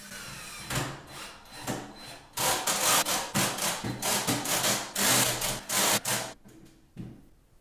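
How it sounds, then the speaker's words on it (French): A jigsaw with a metal-cutting blade cuts metal in rapid buzzing bursts, loud and close, stopping and restarting several times. "j'ai tout coupé à la scie sauteuse avec une lame à métal"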